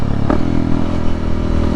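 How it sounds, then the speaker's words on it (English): Honda CRF300L with a Black Widow full system exhaust, loud steady engine drone up close with a brief rev and some mechanical clatter over the top. "Black Widow full system exhaust. That's right, I went for the full system on this bike"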